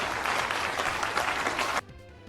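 A crowd claps and cheers in a dense, steady burst of applause that cuts off abruptly near the end.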